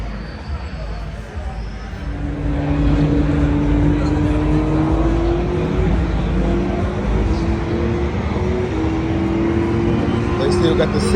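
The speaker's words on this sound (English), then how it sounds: "it's like probably one of the sickest sounding supercars, period." A supercar fitted with a Vorsteiner front end, side skirts and hood revs nearby, its engine note climbing and holding as a loud, steady roar for several seconds.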